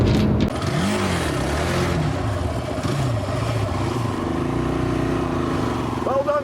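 A Honda quad with a single-cylinder 450cc engine pulls away, its engine droning and rising and falling steadily throughout at close range, with voices talking over it.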